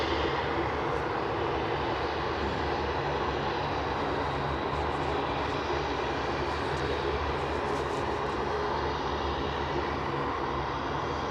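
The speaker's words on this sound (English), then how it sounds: "it would be great if there was somewhere down there you could stand and get a feel of that jet blast." Jet airliner taking off at Anchorage airport, a loud, steady broadband engine roar that holds constant throughout with no voices.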